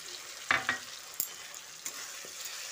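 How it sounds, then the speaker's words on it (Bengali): Tomato paste and masala spices sizzle steadily in a pan for a chicken masala curry, a fairly quiet hiss broken by a few sharper spatula scrapes and pops near the start. "টমেটোটা দিয়ে মশলার সঙ্গে ভালো করে কষিয়ে নিচ্ছি।"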